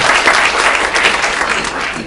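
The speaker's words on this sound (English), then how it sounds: "So give the whole team a round of applause" A real estate team meeting crowd claps in dense, sustained applause for the whole two seconds, loud and close with no talk over it.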